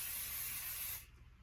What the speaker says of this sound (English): I do a little bit of spray adhesive